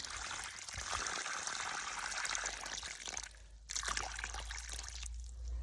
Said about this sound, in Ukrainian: Останній штрих поливаємо водичкою